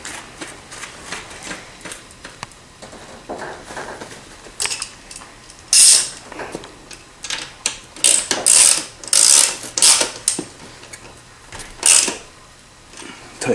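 Bolts being tightened on a bicycle wheel while changing an inner tube, heard as a run of close, sharp metallic clicks and ratcheting bursts in uneven clusters, louder toward the end.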